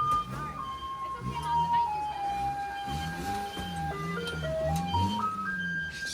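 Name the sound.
street cleaning truck driving in a Taiwan street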